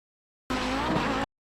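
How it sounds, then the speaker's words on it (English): An Audi 90 GTO race car engine revs up loudly for under a second, a dense roaring burst that starts and stops abruptly. "You just hear the revs rise"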